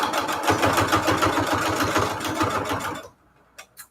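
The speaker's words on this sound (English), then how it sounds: "I've been wanting an upgrade on my sewing machine for a while." A six-year-old sewing machine stitching fabric runs loud and close with a rapid, steady mechanical rhythm for about three seconds, then stops, leaving a few faint clicks.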